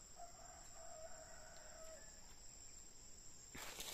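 A wild rooster crows at a distance in a hunting spot, one drawn-out call followed by a shorter one against a steady high insect-like hiss, with a brief rustle near the end.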